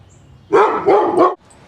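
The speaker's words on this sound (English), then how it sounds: "Boy, these guys bark is crazy." A dog barks three times in quick succession, loud and close, each bark a short bright burst over a quiet outdoor background.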